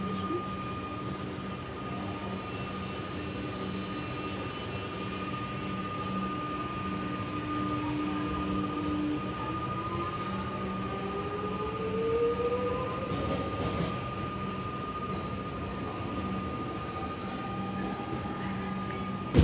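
A Metro train, set 581M, pulls into Flinders Street station in Melbourne with a steady, fairly quiet rolling rumble and a thin wheel squeal rising midway, with no talking.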